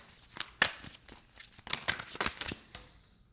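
A deck of tarot cards is shuffled by hand in a series of quick, crisp riffling bursts with short pauses between them. The sound is close and moderately loud.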